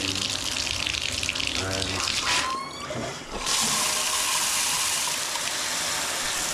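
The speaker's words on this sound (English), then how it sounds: "I'll just take this shower head, position it towards the bath, with the water in" A shower head aimed into a bathtub sends water gushing in a steady, loud, close hiss that runs unbroken throughout, with a brief dip midway as the spray shifts.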